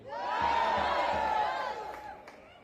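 Protest crowd outside the Milwaukee Federal Courthouse in support of Judge Dugan: a short swell of cheering and shouting that rises, peaks and fades over a couple of seconds.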